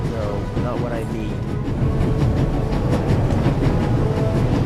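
The steady rumble and rhythmic clatter of a moving train in the adventure game The Raven, a loud continuous interior drone with someone speaking over it.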